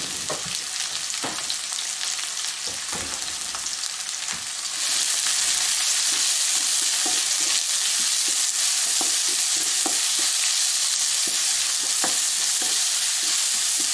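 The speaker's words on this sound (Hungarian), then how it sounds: "Beleteszem az olajba a hagymákat." Onions sizzle loudly in hot oil in a pan, a dense steady hiss that swells and brightens partway through, with occasional light clicks of stirring.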